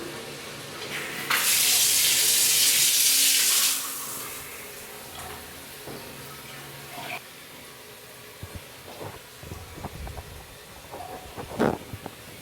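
Water running from a bathroom shower fixture during a home inspection in Greece, a loud close rush of spray for a couple of seconds that then stops, followed by quieter drips, knocks and handling sounds.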